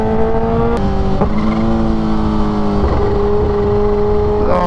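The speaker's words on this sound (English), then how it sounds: "Oh, listen to that supercharger flutter." Supercharged Kawasaki Ninja H2R motorcycle accelerating, a loud close engine note climbing steadily in pitch through several gear shifts, with a fluttering supercharger sound and no talking.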